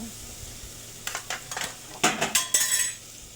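Spices being mixed in a cooking pot, with a series of spoon scrapes and clinks against the metal that grow louder toward the end, each brief and close.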